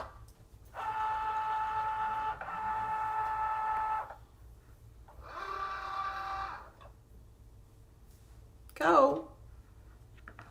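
A Cricut cutting machine cuts a circle from card, giving a steady motorized whir with a high tone for about three seconds, a shorter burst after a pause, then a brief sharp whine, moderately quiet and close.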